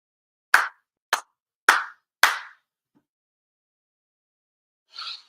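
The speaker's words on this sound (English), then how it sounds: "For sincere claps." Four sincere ritual hand claps ring out at a monthly Shinto-style prayer service, loud, close and evenly paced in a quiet hall, then a short pause and a faint brief rustle.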